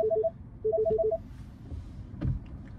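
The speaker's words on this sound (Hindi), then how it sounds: "फोन आ गया भाई" Phone ringing with repeated short electronic tone bursts in two quick groups, fairly clear over low background rumble, followed by a few faint knocks and thumps.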